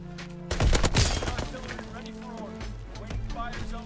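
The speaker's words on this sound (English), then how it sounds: "I know I got shot at." Gunfire in the World War II shooter Call of Duty WW2, a loud close burst of rapid shots followed by scattered softer shots amid game music and sound effects.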